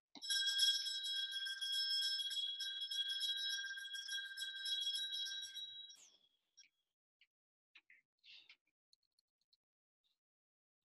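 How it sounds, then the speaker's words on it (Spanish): Small bells jingle and ring continuously for several seconds, bright and high-pitched, then fade out, leaving a few faint scattered clicks. "ese sonido que acaban de escuchar es el de campanillas"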